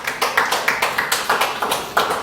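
A church congregation claps in a steady rhythm during a Sunday worship service, about nine sharp, evenly spaced beats close by.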